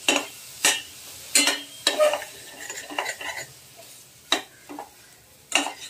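Tomato pieces dropped into hot oil in a home kitchen pan while cooking mung bean rassa, giving sharp bursts of sizzle and spattering with stirring scrapes between them, close and moderately loud, no talking.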